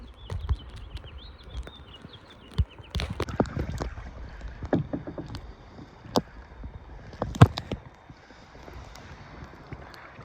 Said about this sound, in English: This is what paddling the Horseshoe Bend means to Shelly